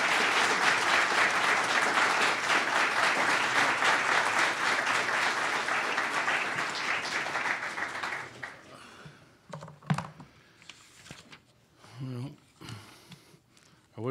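Audience applause welcoming Justice Moldaver at a law college lecture, a dense sustained clatter of many hands that fades out after about eight seconds into scattered claps and a few low voices.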